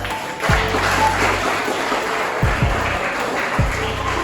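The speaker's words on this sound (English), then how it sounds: "Please give them a big round of applause." A crowd at a school inter-house science quiz competition claps continuously in a dense wash of applause, with steady low thumps pulsing underneath.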